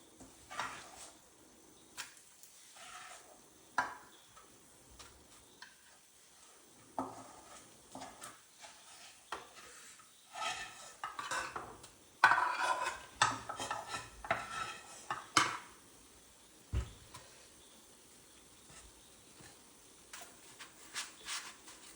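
A hot Mysore pak mixture of gram flour, sugar and ghee being scraped and spread into a greased dish, with intermittent scraping, tapping and clinks of a spoon against the metal dish, mostly quiet with louder bursts.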